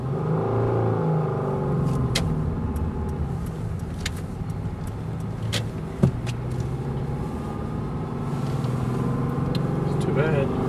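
A 2000 Subaru Outback driving through a blizzard, with a steady low engine and road rumble inside the cabin, scattered clicks and knocks, and people talking over it.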